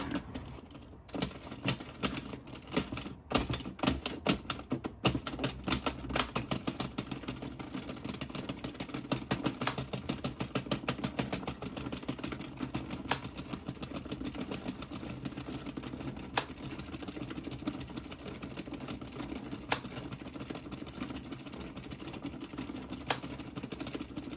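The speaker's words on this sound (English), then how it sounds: "all you're gonna do is you're gonna start twisting your machine" A hand-cranked knitting machine working DK weight yarn into rows, a steady rapid clattering of needles and carriage that runs continuously and evenly throughout, close and fairly loud, with no talk.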